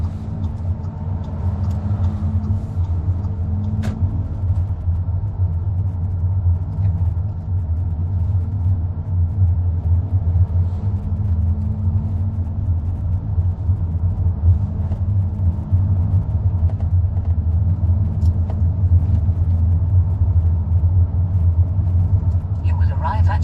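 Car driving on a road during a driving mock test, heard from inside as a steady low rumble of engine and road noise that continues throughout, with voices talking over it.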